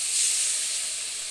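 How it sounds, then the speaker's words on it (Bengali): Water poured into a pan of spice paste with turmeric, fried until cooked down, gives a steady, loud hiss of sizzling steam that lasts the whole short moment, with no talking. "মশলাটা কষানো হয়ে গেছে, এর মধ্যে আমরা এবার জল দিয়ে দেব।"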